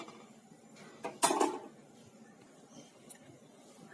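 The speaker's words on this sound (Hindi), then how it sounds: "हम रखेंगे एक पैन, इसे गर्म होने देते हैं।" A metal pan is set down on a kitchen stove to heat, making a brief clatter and clank at close range. The rest is quiet room tone with a few faint soft knocks.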